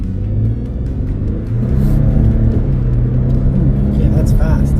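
A 2024 Ford Ranger pickup, the 315-horsepower version, accelerates hard with a loud, close engine roar that builds and deepens midway, sustained throughout without pause.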